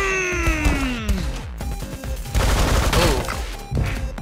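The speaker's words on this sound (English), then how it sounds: "They've got machine guns." Bursts of machine gun fire and crashing impacts in the 2D fighting game Megabyte Punch, loud and close, with whooping synth tones and rapid clattering shots.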